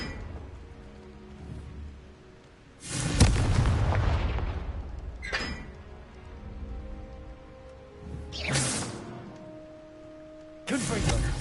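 Confringo blasting spell bursts in Hogwarts Legacy, several sudden loud booms with rumbling tails at intervals, set against quieter game ambience and a speaking voice.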